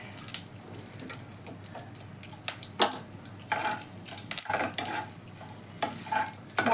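Whole spices fry and are stirred in a hot pan while a prawn dish is cooked, giving a soft sizzle broken by irregular clinks and scrapes of a spoon, close and without talk.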